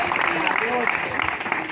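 Church congregation breaks into loud, steady applause, a dense wash of many hands clapping at once, held at an even level for a brief moment, with voices mixed in underneath.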